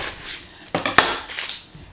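A knife cuts through a red onion on a board: two crisp chopping thuds close together, followed by lighter scraping and rubbing, with no voices.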